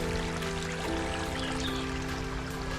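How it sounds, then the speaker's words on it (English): Floodwater pouring along a footpath turned into a stream during the Ultra Trail Snowdonia, a steady, loud, continuous rushing flow close by with no voices. "This is supposed to be a footpath. It's a bloody river."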